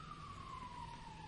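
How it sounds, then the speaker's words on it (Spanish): An emergency vehicle siren passing outside during an indoor presentation in Santiago, a faint, steady wailing tone that glides slowly downward over a low hum of background noise. No speech over it. "Disculpen la sirena"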